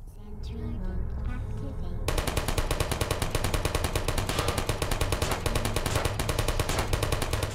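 Rapid automatic gunfire from enemies shooting at the player in the video game Portal, a dense continuous rattle that starts abruptly after a quieter opening and keeps hammering loudly to the end, with a voice faintly mixed in.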